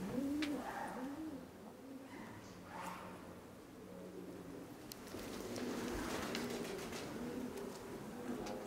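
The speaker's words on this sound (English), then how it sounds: "Can hear the pigeons above me." Soft, repeated cooing of pigeons overhead, low and throaty, inside a large abandoned theatre, an echoing space with faint background rustle and occasional clicks.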